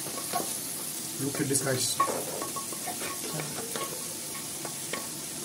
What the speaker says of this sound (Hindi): ठीक से उसको हिलाया जाएगा ऐसे, प्याज के साथ मिक्स किया जाएगा।